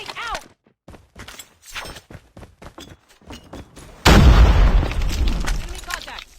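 A grenade explodes in Call of Duty Mobile, a loud booming blast with a rumbling tail that follows a stretch of game voice callouts.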